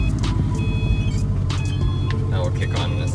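A 2011 Subaru WRX STI engine starting and settling into a rumbling idle, loud and close inside the car, with brief electronic tones and a voice speaking over it.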